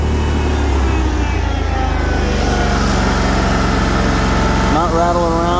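A 60-inch commercial-grade Lazer Z zero-turn riding lawn mower engine idles smoothly and steadily up close, a continuous low rumble with no knocks or rattles, while a voice speaks briefly near the end.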